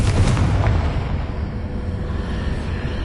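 A Confringo spell blast in a Harry Potter video game gives a deep, loud booming explosion at the start that rumbles and slowly decays into a long low roar.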